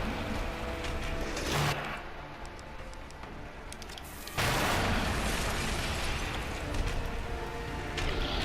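Grenade explosions in the video game Resident Evil 2 Remake, two loud booming bursts a few seconds apart, the second followed by a sustained rumble and mechanical clatter.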